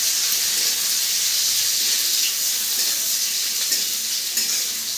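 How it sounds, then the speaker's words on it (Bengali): Onion, lentil bori, garlic and dried chili fry in hot oil for pumpkin greens, giving a steady, close, bright sizzling hiss that holds evenly throughout with no voices. "এই পেঁয়াজ, বড়ি, শুকনো লঙ্কা, রসুনের কুচি ভাজা হয়ে গেছে"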